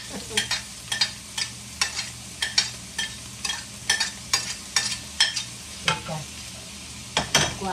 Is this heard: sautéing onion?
yes